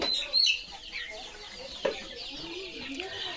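Local country hens cluck and chatter in a poultry farmyard, with a few sharper squawks early on over a steady background murmur of birds.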